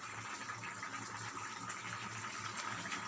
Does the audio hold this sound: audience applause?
no